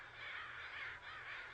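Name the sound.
crow calling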